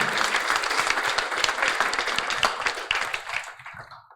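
Warm applause rolls through a startup pitch awards event, dense clapping from a sizeable audience held steadily before tapering off into quiet at the end.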